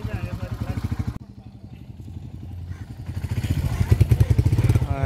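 A Royal Enfield motorcycle rides an off-road track in the cold. Its engine gives a close, steady thumping pulse that dips briefly, then builds louder toward the end, with a voice talking over it.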